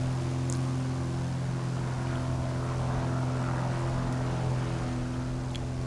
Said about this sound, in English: I love the sounds on this plane though, when you go past.